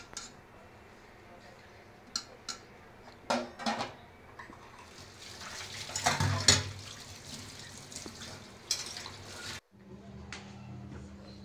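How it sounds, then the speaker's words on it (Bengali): Plates and bowls washed by hand under a running tap after a meal in a home kitchen; soft, faint water flow with scattered clinks and knocks of dishes, a quiet voice now and then in the background. "তো খাওয়া দাওয়ার পরে এখন প্লেট বাটিগুলো ধুয়ে নিব।"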